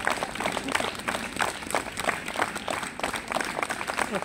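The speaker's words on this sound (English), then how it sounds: "Please put your hands together for James!" Audience applause for a performer named James at a comedy show during an arts festival in Dronfield, steady dense clapping from a crowd filling the whole stretch at moderate level, with faint voices mixed in.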